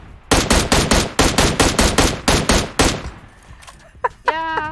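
Thompson submachine gun fire in the PUBG Mobile battle royale game: a loud, close string of about ten rapid shots in quick rhythm, followed by a quieter tail with a brief squeaky tonal sound at the end.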